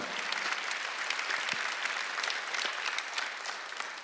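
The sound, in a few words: congregation applause in a church service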